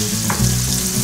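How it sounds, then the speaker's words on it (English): Loud, dense sizzling and crackling of alligator ribs frying in hot oil, continuous and close. "Now we're frying."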